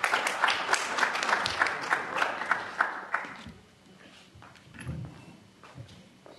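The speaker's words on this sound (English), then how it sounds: "Let's give him another round of applause." Audience applause at a Newark education think-tank event fills the first three seconds with dense, loud clapping, then fades to scattered claps and quiet room noise.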